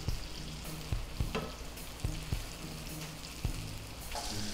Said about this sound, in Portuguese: Nosso bife já dourou, vou dar uma virada nele.